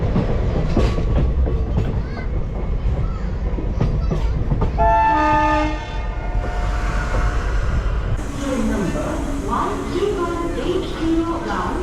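A passenger train heard from inside a crowded general compartment rumbles and rattles along the rails, with a horn blast midway and voices of passengers talking over the steady clatter.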